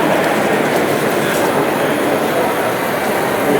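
An Airfix model train set, unused for three decades, runs on its track with a loud, steady rumbling whir and rattle that stays constant throughout, with no voices.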